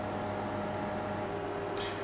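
Convection microwave oven running on its regular setting to reheat pizza: a steady, low mechanical hum with fan noise, even and continuous, with a faint brief click near the end.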